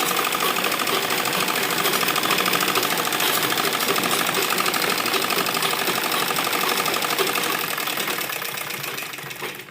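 A sewing machine stitches continuously along a lined embroidered suit seam, a loud, even rapid whir with no pauses for nearly ten seconds.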